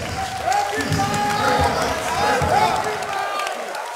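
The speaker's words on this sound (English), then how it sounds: "please let us welcome Comrade Sowore with the rousing applause" Crowd at an AAC political rally in 2019 cheering and applauding a speaker's welcome, a steady, dense wall of clapping and shouts at close range, lasting the full few seconds without letting up.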